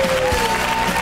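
Studio audience applauding on a Catalan television talk show, a brief steady wash of clapping heard alone for about a second.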